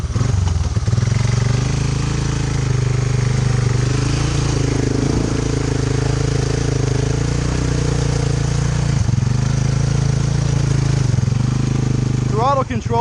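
An amphibious all-terrain vehicle's engine runs loud and steady through the whole stretch, a constant close drone with slight throttle swells while riding in water.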